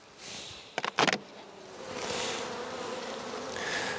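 Honey bee colony buzzing softly in an opened overwintered nuc hive, a steady low drone with brief sharp knocks of frames or hive parts early on and louder passes of bees nearby.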